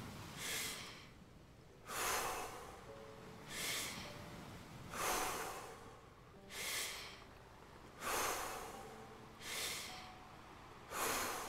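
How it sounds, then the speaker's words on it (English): One person breathes slowly and deeply, each long airy inhale and exhale rising and fading at a regular interval of about one and a half seconds, close and quiet, with no talking. "Make sure you're breathing in all the way and breathing out all the way."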